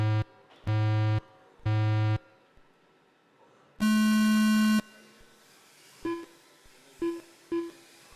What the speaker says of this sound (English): here come your beeps